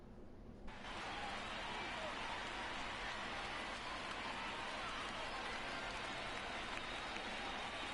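Light rain falls on an open-roof ballpark in an MLB baseball video game, a steady soft hiss that holds evenly through the whole stretch after a brief quieter start.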